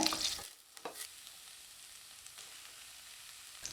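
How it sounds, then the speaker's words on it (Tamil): Mixed vegetables, including capsicum, sizzle in a pan over medium-high heat with a few quick stirring scrapes at first, then settle into a soft, low frying hiss. "காய்கறியெல்லாம் கொஞ்சம் மீடியம் ஹை ஹீட்டில் நல்லா வதக்கி விட்டுக்கலாங்க"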